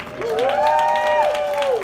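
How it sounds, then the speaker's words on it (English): A crowd cheers with a rising, sustained whoop over a soft wash of clapping, loud and close throughout. "Big round of applause for Donald."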